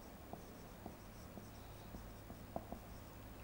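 Soft, faint taps and scratches of writing on a board during a chemistry lesson, spaced irregularly over a steady low background hum, with no voices.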